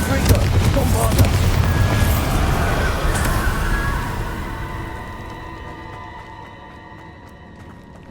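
Confringo and Bombarda blasting spells in Hogwarts Legacy, heavy booming explosions rolling into a long rumbling decay that fades to a ringing, shimmering tail, loud and close, with a voice partly over the start.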